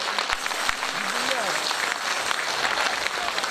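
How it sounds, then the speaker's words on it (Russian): An audience applauds at a folk song concert, a dense, steady wash of clapping filling the whole stretch at moderate distance, with a brief voice heard faintly over it. "Спасибо огромное за аплодисменты, дорогие друзья"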